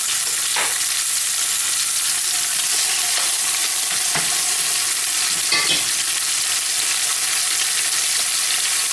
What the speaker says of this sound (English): When you hear that sizzle, there you go. We're just going to brown these on all sides.